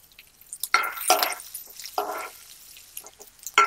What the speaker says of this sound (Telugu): పచ్చిమిర్చి, కరివేపాకు, ఎండుమిర్చి ఇవన్నీ ఇందులో వేసుకొని వేపుకోవాలి.